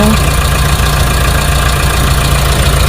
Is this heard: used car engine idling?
yes